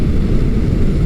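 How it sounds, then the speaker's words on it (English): A Honda CB900 Custom motorcycle with a 10-speed transmission downshifting to fourth gear, its engine giving a loud, steady, close rumble with no break in the sound. "So if I'm downshifting, I go back down to fourth gear,"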